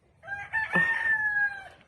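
A single rooster crows loudly and close by, one drawn-out call lasting over a second, with a faint cluck beneath it.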